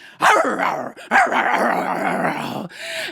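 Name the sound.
dog barking in a told story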